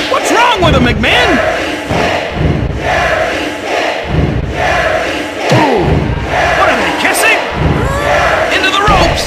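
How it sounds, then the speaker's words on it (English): Loud, continuous crowd roar with cheering from the wrestling video game WWF Attitude, with commentary voices talking over it and occasional thumps from the ring. "Check out this crowd! They're on their feet!"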